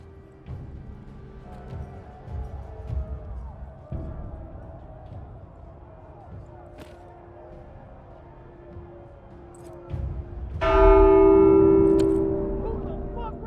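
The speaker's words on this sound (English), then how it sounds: "Who the fuck rang the bell?" A church bell rings out in the Walking Dead: Saints & Sinners video game, a bright metallic clang swelling near the end over muffled background game sounds and brief speech earlier.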